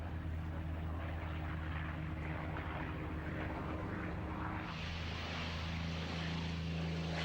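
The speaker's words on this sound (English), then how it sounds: "There goes the A-36 off the grass." North American A-36 propeller warplane takes off from a grass airfield at an air show, its piston engine a steady droning roar that holds at a constant distance with a rising whine late on.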